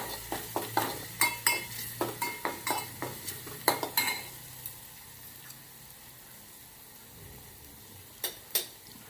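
A spoon stirs a tempering of roasted chillies and asafoetida in a pan, giving a quick run of close metallic clinks and scrapes over a light sizzle, then near quiet broken by two last taps.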